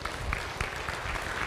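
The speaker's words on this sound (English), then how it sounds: "give him a round of applause." Lecture audience applauding a volunteer after a computer science demonstration, a steady patter of many hands clapping at moderate volume throughout, with no voices over it.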